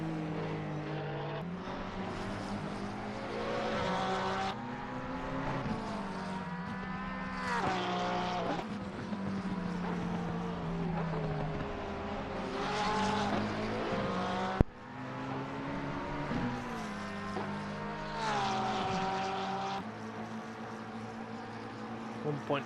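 Race cars including a Porsche lapping Bathurst in a four-hour endurance race, engines droning and rising and falling in pitch as they pass, loud and continuous with commentary voices over them.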